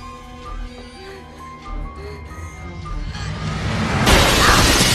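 A glass table shatters as a body crashes onto it in the horror film Scream 4, a loud burst of breaking glass at the end following tense film music.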